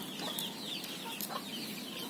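Faint clucking from chickens, including a rooster, somewhere in the distance, with a few soft calls over a steady outdoor background.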